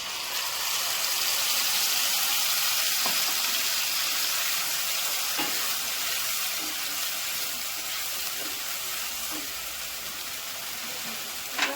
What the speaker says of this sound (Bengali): পেঁয়াজটা একটু ভাজা হোক, ভাজা হয়ে গেছে